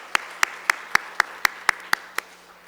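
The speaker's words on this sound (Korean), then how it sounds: "우리 다시 한번 박수로 축복합니다" A church congregation clapping in unison, about nine sharp, evenly spaced claps in a steady rhythm over a faint low hum, fading slightly at the end.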